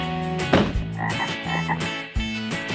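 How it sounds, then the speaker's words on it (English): A frog croaks in loud, close, buzzy bursts, a few strong pulses separated by brief pauses, with soft music underneath. "Frog."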